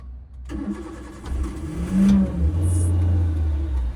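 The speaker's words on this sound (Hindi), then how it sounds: "वापस इंजन ऑन करिए, फिर आपने ब्रेक से पैर हटा लिया, एक्सीलेटर पे रखिए वो पैर, हाँ चाहिए स्टार्ट करिए" A car engine cranks and catches during a hill-start driving lesson, then settles into a steady idle with a slight rev. It sounds close and fills the clip without anyone speaking.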